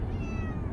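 A cat inside a carrier in a moving car gives one short, plaintive meow, close and clear above a steady low road rumble.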